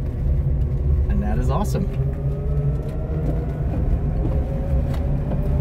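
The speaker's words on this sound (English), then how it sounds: "First time driving, obviously, a Beetle, and it's electric one." A 1963 Volkswagen Beetle converted to electric drive hums along steadily with a low rolling road rumble throughout, close inside the cabin, while a person talks over it.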